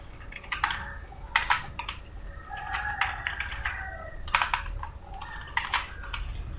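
Someone types code on a computer keyboard in irregular bursts of close, crisp key clicks, with faint bird calls in the background.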